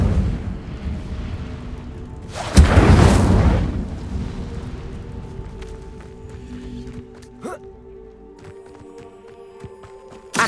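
Incendio fire spell from Hogwarts Legacy erupts in a loud, roaring burst that tails off into a crackling rumble, followed by fainter game sounds.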